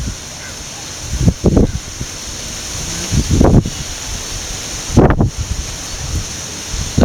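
Strong gusts of wind buffet the microphone in a rooftop garden among chili and cluster bean plants, coming in rumbling bursts of rustle between calmer stretches.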